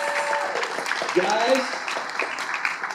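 A thin smattering of applause rises from a small audience at a Comic-Con panel on action figures, scattered claps blending with murmuring voices and brief speech in a roomy hall.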